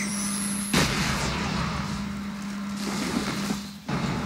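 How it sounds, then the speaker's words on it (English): An explosive batarang detonates in the Batman: Arkham Origins online multiplayer, a sharp loud blast near the start followed by a rumbling, noisy tail and a second thump toward the end, over a steady game hum. "Select and throw the explosive batarang at the ground. It will automatically prime and detonate, taking out surrounding enemies."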